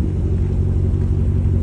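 A 2018 Ram 1500 Express pickup truck with an aftermarket exhaust idling nearby, giving a deep, steady, loud rumble with no talking.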